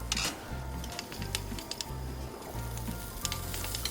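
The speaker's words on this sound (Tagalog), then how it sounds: "mag-a-add ako ngayon ng oil sa aking pan. At i-saute ko na ang ating garlic" Garlic sautéing in oil in a pan for a Hong Kong-style tofu casserole, giving a steady close sizzle and crackle with a low hum underneath and no talk.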